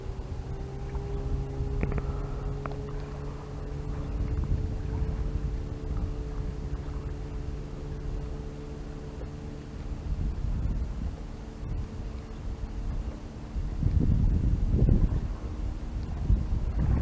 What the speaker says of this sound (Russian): Ветерочек поднялся.